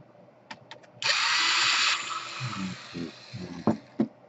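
A power screwdriver whirs for about a second on Toshiba Satellite C55 laptop screws, a loud steady buzz, followed by small clicks and plastic handling sounds as the screw comes out.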